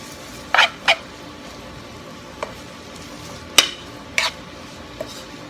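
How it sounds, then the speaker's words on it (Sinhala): Bean sprouts and salt are stirred in a pan for a spicy tempered dish, giving a few sharp, separate scraping strokes against a quiet, faint sizzle. "බීන් ස්ප්‍රවුට් ටික ලුණු ටික හොඳට මිශ්‍ර කරන්න."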